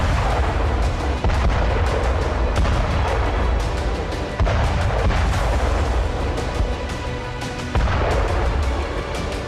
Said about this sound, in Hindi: 30 अक्टूबर 1961 को सोवियत संघ के नोवाया जेमलिया में Tu-95B बॉम्बर के जरिए इस हाइड्रोजन बम का टेस्ट किया गया था